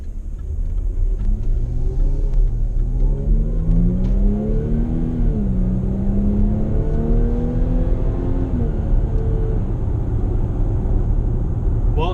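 A 2017 Jaguar F-Pace 35t R-Sport engine drones while driving on the road, rising in pitch as it accelerates, easing briefly, then climbing again over steady rumbling road noise, loud and close with no talking.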